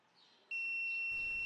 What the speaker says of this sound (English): You can see the buzzer just turned on as the temperature exceeds the 200 Celsius limit.